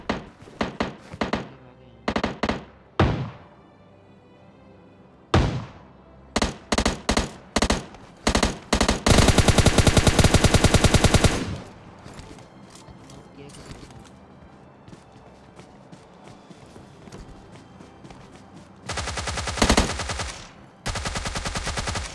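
Automatic gunfire sprays in PUBG Mobile Lite from players with an M16 and a shotgun. It comes as sharp repeated bursts, then a long unbroken volley midway, and another burst near the end, with quieter gaps between.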